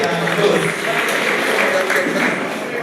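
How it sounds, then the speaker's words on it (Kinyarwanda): A crowd applauds at an Umuganura reception in Rwanda. The clapping is a steady, dense wash that holds at an even loudness for the whole stretch, with some voices mixed in. "tuyongere amashyi"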